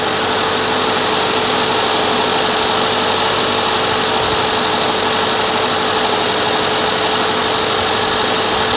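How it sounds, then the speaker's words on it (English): A 2014 Subaru Forester XT idles steadily with its air-conditioning compressor running, a continuous mid-pitched engine hum with a faint mechanical whir, close and unchanging throughout with no talking. "All right, air conditioner's on. Compressor's running."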